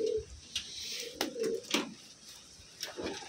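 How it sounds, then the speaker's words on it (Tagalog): Wantai pigeons coo softly in a few short, repeated low calls, close by, with faint rustling between them. "Ayan na yung mga ibon natin."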